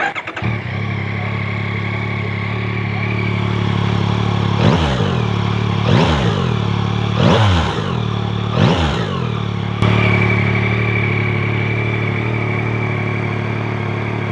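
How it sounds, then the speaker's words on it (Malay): A Yamaha Tracer 9GT motorcycle with a liquid-cooled 890cc three-cylinder four-stroke engine runs at a steady, loud idle close by, then gets four quick throttle blips in a row before settling back to idle. "untuk motosikal ni dia datang dengan 4 stroke, liquid cool, double overhead cam, 4 valve, 3 silinder, 890cc"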